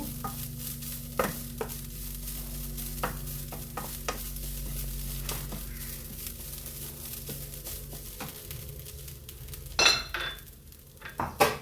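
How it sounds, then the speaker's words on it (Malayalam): Close, steady sizzle of grated coconut frying in ghee, with repeated scrapes and clinks of a spoon stirring against a pan, a louder burst of clattering near the end. "വറുത്തെടുക്കണം നെയ്യിൽ"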